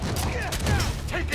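Rapid gunfire in the PS5 video game Spider-Man Miles Morales, a dense burst of shots running the whole moment, mixed with busy game effects and whistling tones.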